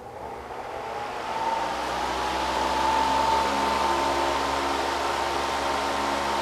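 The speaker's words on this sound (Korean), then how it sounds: "일단 선풍기 먼저 제가 작동을 해" An electric fan runs at its strongest setting 3, a steady broadband whoosh of moving air that rises in the first second and then holds level and fairly loud, with a faint tonal whine.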